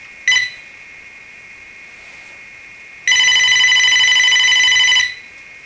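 A Motorola Razr ringing during a call: a short electronic tone burst, then quiet, then a loud, sustained two-second ring with bright shimmering tones, close and clear with no talking.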